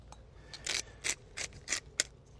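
A pepper mill grinds pepper over spiced shrimp and mango skewers in six or seven short, uneven scratchy twists, close by and soft, with nothing else heard.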